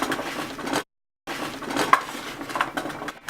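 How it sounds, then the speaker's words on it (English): Cubed squash tossed with oil, salt and pepper in a bowl, giving soft scraping and rustling with a couple of light clinks, pausing briefly midway before resuming, close and fairly quiet. "we're going to toss it all together"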